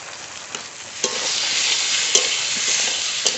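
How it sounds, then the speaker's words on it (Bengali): Taro (kochu) frying in a pan, a loud, bright continuous sizzle with occasional clinks of a spatula stirring against the pan. "কচু একটু ভাজা হতে থাকুক এদিকে মশলা করে নেব"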